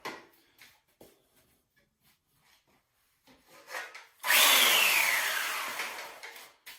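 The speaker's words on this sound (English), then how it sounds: "And then I just kind of start planing." Rattan for an SCA sword being planed, with a few light scraping strokes and taps first, then a long loud rasping swipe of the plane that slowly fades.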